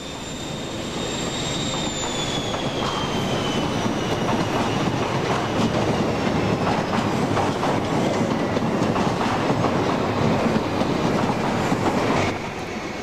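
A train runs along the main line heading west from Paddington, a continuous rumble with rhythmic wheel clatter and a faint high squeal, steady and fairly near before easing off at the end.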